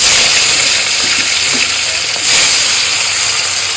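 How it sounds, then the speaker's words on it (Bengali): Salted hilsa fish fries in hot mustard oil, a loud, steady, broadband sizzle close up that swells briefly midway, with no talking over it. "ওকে, তেল গরম হয়ে গেছে, এবার মাছগুলো আমি ভাজবো।"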